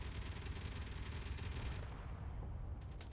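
Gatling gun fire in the space combat game Space Engineers: a dense, continuous roar of rapid shots that cuts off partway, followed by a quieter rumbling tail, loud and close.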